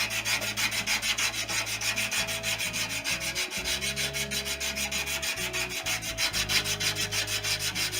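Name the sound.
thin strip of emery rounding a plywood rib edge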